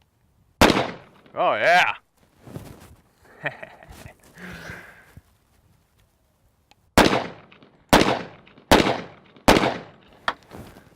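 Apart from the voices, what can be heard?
double-barrel pistol firing 230 grain bullets, two at a time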